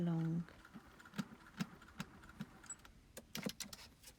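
A sewing machine runs in short stop-start bursts while stitching a narrow seam along the edge of apron fabric, the close, light mechanical rattles separated by brief pauses.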